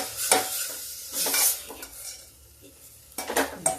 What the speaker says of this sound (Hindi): ये समूची सेम हम इसी में डाल देते हैं। ये देखिए ये बीज है, बीज सहित इसी में डाल देते हैं। अब इसको हम भूनेंगे